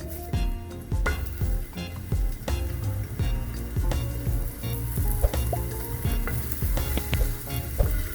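Cucumber omelette batter sizzles in oil on a hot griddle, a busy close crackle of frying with frequent sharp pops and spatters throughout, unbroken by any talk.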